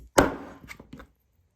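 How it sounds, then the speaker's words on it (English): A sharp knife chops through raw chicken wings on a cutting board, one firm thud followed by a few softer quick cuts, close and alone. "let's start chopping up the chicken wings"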